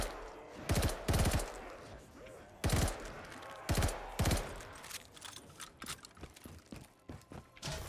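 Gunfire blasts in Black Ops 3 custom Zombies as zombies are shot at a single window, with loud bursts of shots, a few heavy reports early, then rapid, lighter, clattering shots toward the end.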